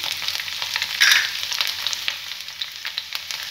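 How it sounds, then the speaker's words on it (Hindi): Ginger paste and garlic frying in a pan of roasted cumin, a steady close sizzle that jumps into a brief louder hiss about a third of the way in, then settles back, with no talking. "अब इसमें हम अदरक का पेस्ट डालेंगे। और ये लहसुन डालेंगे,"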